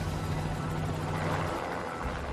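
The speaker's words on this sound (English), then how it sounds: "So we set the helicopter down and we walked up." A helicopter in flight over a barren volcanic pumice plain, its rotor and engine giving a loud, continuous droning roar that fills the whole stretch with no voices.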